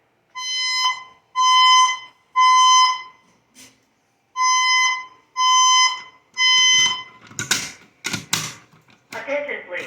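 A building fire alarm test: loud electronic horn blasts sounding in repeated pulses, three then three more, each about a second long, followed by scattered clicks and bursts.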